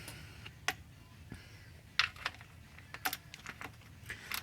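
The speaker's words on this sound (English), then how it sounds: "Use my ratchet." A hand ratchet clicks in short, irregular bursts of light ticks while loosening a 14 mm starter bolt on a 1997 Jeep Grand Cherokee, faint and close.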